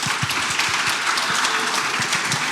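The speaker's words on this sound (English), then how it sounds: "keep the round of applause going" An audience applauding after a marketing conference panel, a brief burst of dense, steady clapping heard close and filling the whole moment.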